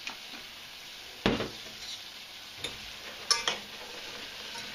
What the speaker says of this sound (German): Das muss jetzt erstmal schön rösten, ohne zu stark Farbe zu nehmen.